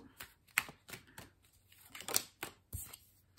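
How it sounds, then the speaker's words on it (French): A card drawn from an oracle deck during a reading: a few soft shuffling and sliding paper sounds with small taps, quiet and close, spread across a few seconds without talk. "je vais tirer une petite carte de conclusion"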